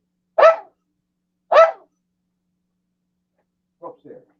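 A dog barks twice, loud and close, about a second apart, then gives two softer yips after a pause; no one speaks.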